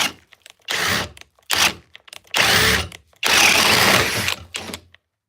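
Cordless drill fitted with a 2 Ah stacked lithium power-stack battery, run in several short bursts of whirring motor, each trigger pull revving up then cutting off, loud and close with gaps between.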